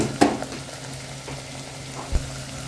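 Onions and green chillies fry in a pan with a low, steady sizzle, broken by a couple of brief clinks.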